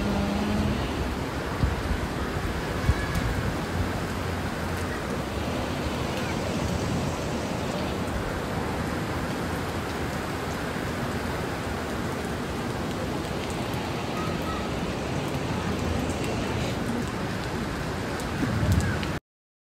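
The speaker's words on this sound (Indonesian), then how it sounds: "Hujannya deras banget." Heavy rain pours steadily at a river park, a dense, even hiss of drops on surfaces, constant and close throughout with no breaks.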